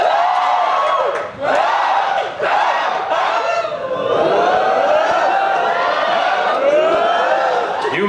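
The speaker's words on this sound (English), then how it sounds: "If you want the humans to win, cheer." A loud live audience cheers and yells continuously, a dense wall of many voices with shouts rising and falling close up, during an audience vote at a comedy show.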